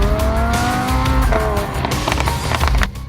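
A Lamborghini Huracan LP610-4 drives loudly past with a deep engine roar and a sustained, wavering tire squeal, close and continuous throughout.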